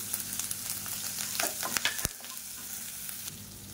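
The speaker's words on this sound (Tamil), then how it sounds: "இப்போ எண்ணெயில் போட்டு வதக்கிக்கலாம்" Chopped green chilies and ginger sizzle in hot oil as they are sautéed, a steady close frying hiss with a few sharp crackles and stirring clicks, no voices.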